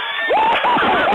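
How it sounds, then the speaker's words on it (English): A crowd cheers and whoops in a short burst, with rising shouted voices that sound thin and narrowband, up close and without speech. "a quick round of applause because the market just hit a new all-time high"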